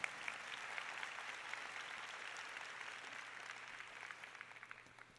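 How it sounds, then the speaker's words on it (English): Audience applause at a real estate talk about selling listings, a steady patter of many hands clapping, faint and somewhat distant, fading slightly toward the end. "Yeah, clap it up for Bobby."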